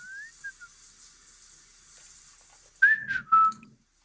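Whistling from a Sims 4 character taking a shower in the video game, a short melodic whistle at the start followed by louder warbling whistled notes near the end over a faint hiss of running water.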